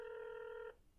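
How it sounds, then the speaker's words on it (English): A telephone ringing tone heard over a call line holds one steady electronic buzz for under a second, then cuts off into faint line hiss. "It's still ringing."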